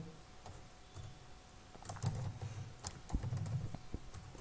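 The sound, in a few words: typing on a computer keyboard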